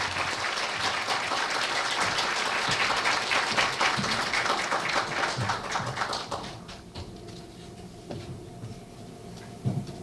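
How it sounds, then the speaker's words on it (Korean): A lecture-hall audience applauds a retiring chemistry professor at a university retirement ceremony, full clapping that thins after several seconds into scattered claps and a few faint knocks. "여러분, 정력철 교수님을 박수로 맞이해 주십시오."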